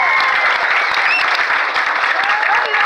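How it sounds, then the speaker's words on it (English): Audience at a reptile gardens show applauds a volunteer after alligator wrestling, a loud, dense burst of clapping that runs steadily from start to finish with a few cheers mixed in. "Let's give our volunteer here a round of applause."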